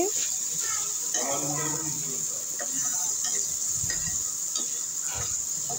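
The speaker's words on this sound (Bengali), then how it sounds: "আরও কিছুটা তেল দিয়েছিলাম, দিয়ে একটু লাল লাল করে ভেজে নিচ্ছি" Beef pieces fry in oil in a pan until reddish, a soft sizzle and occasional stirring heard under a voice speaking over it.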